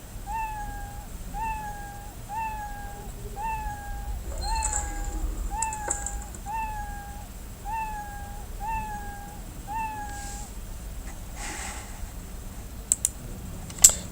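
A synthetic cat meow sound effect in Scratch repeats about a dozen times in a steady rhythm, with soft clicks and keyboard tapping in the background.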